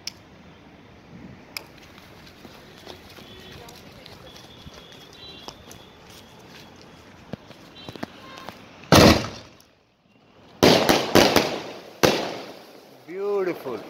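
Golden Bees skyshot fireworks from Mercury Fire Works going off outdoors, a few loud bursting cracks and crackles after a quieter stretch of ambient noise, with a voice speaking nearby.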